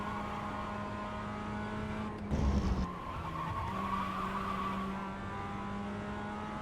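A GT3 race car in a racing video game brakes hard, tyres skidding in a short loud burst over a steady droning engine tone, which then resumes alone without talk.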